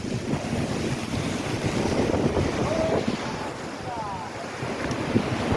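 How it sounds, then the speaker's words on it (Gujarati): Sea waves surge at a full-moon high tide on the shore at Daman, a continuous loud wash of surf mixed with heavy wind buffeting the microphone, with faint voices in the background. "પૂનમની ભરતી તો જુઓ દમણનો દરિયો આજે ગાંડો ટૂર"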